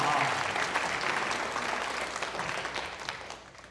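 Audience applause at a Taipei Quyi Troupe crosstalk comedy duo performance, a burst of dense clapping that starts strong and gradually thins and fades over a few seconds.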